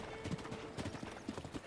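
Horse hooves clip-clop in steady, fairly loud beats as a mount is ridden in The Legend of Zelda: Breath of the Wild, with a faint whinny-like tone mixed into the game's background sound.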